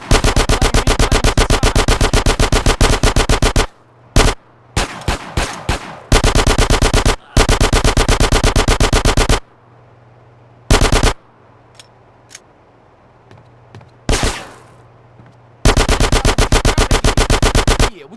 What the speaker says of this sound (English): I'm doing really good with this SMG.